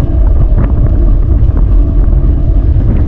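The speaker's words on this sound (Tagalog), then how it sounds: "Ay hangin, malakas ang hangin" Strong wind roars steadily into the microphone on a remote fishing trip, a loud continuous low rumble with gusty buffeting throughout.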